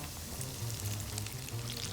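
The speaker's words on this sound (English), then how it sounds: "we're going to drop it, which I've already dropped it in the grease for frying" Flour-coated chicken, brined in sweet tea, fries in hot grease with a steady, dense sizzle and crackle. The sound is continuous and close, with no voices.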